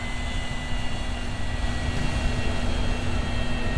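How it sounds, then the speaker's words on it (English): A steady, loud jet engine roar from an aircraft in the Yakuza 3 video game, constant and unbroken throughout with a thin sustained whine over the broad rushing drone. "We're taking a jet?"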